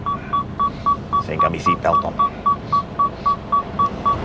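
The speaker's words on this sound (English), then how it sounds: "Excuse the beeping, it'll go off now when I start reversing." Truck reversing alarm on a lorry at a loading bay: a steady, regular series of loud electronic beeps, about three per second, under engine rumble while someone speaks briefly.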